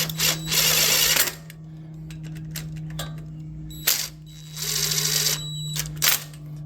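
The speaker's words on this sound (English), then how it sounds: "am going to use the impact, but I'm only going to gently get it started" A power impact driver runs in two short bursts of a couple of seconds each while gently starting a bolt on a Kohler engine starter, with a steady hum and light clicks and handling noises in between.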